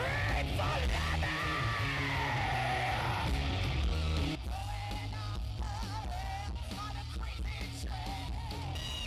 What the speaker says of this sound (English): Scream for Lemmy!